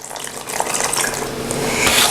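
Water runs steadily from a faucet into a stainless steel bowl for cake mix, a loud close splashing and gurgling stream that swells slightly as the bowl fills.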